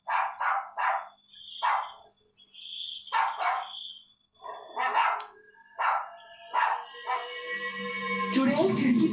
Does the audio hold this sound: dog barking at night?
yes